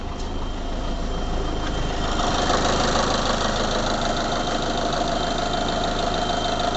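A truck engine idles steadily up close, a continuous even rumble with a faint regular knock running through it, loud and unbroken for the whole stretch with no voices.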